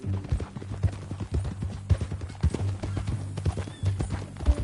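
Horse hooves clip-clop at a steady walking pace in the Red Dead Redemption 2 video game, with each distinct step landing close and clear over a low ambient hum.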